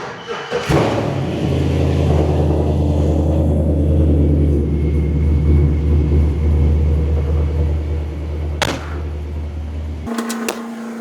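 A classic Chevy Apache truck with a diesel engine swap cranks and catches, then settles into a loud, deep, steady rumbling idle close by. Near the end there is a thump, the engine cuts off and a few clicks follow.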